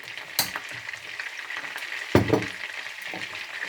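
Ginger garlic paste fries in a pan for dal with a low, continuous sizzle. Two sharper stirring scrapes cut through, one near the start and a louder one midway.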